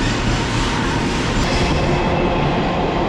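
A train at Balasore railway station gives a loud, steady rumble and roar that fills the whole stretch without a break, with no voices over it.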